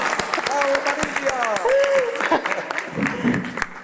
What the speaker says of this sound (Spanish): Y bueno, vamos a aplaudirle a la gente, ¿no?